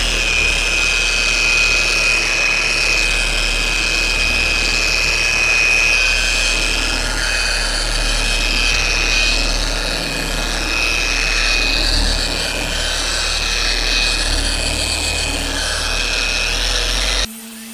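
A power polisher works steadily across the top of a car hood during ceramic coating prep, a continuous buffing whir with a faint high whine, loud and close, running nearly uninterrupted until it stops at the very end.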